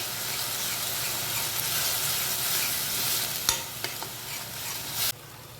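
Spicy mint and coriander chutney fries in oil as it is stirred into a ragada street-food mixture, a dense close sizzle with a few sharp spoon scrapes near the end.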